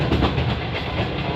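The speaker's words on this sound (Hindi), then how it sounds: "अब ये स्पीड पकड़ रही है" A passenger train from Rawalpindi rumbles along, picking up speed, with a loud, close, steady clatter of wheels on rails.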